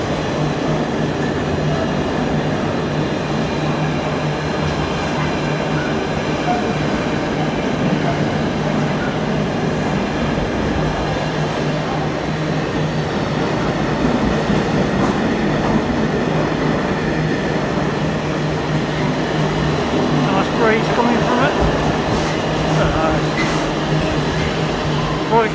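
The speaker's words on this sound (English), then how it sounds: "Say is a container train" Container train rolling through Leicester railway station, a loud continuous rumble of wagons with rhythmic wheel clatter and occasional squeal, steady throughout, with some voices in the background.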